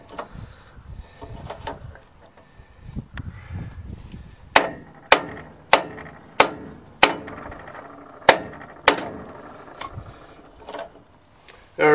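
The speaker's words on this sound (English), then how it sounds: "Just give it a few hard whacks now." A hammer strikes a rear axle bearing on a Case backhoe with about nine hard, sharp metallic whacks in a steady rhythm, close and loud. Quieter shuffling and handling noise come before the blows.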